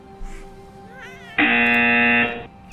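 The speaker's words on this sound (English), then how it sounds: "Oh, there's that buzzer." A harsh buzzer blares for about a second during a Horizon Zero Dawn gaming stream, loud and steady before cutting off, with quieter game sounds around it.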